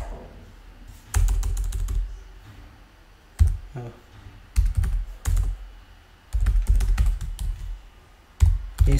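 Commands being typed on a computer keyboard while installing R, close bursts of rapid key clicks separated by short pauses, with no one speaking.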